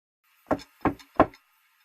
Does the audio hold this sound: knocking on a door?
yes